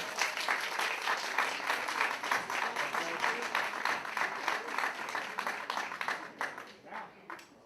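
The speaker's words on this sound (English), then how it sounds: "Let's hear you clapping." One section of the crowd at a pool tournament, the Predator Eurotour Luxembourg Open, claps hard in a clapping contest. The applause is dense and sustained, with a few voices mixed in, and thins slightly near the end.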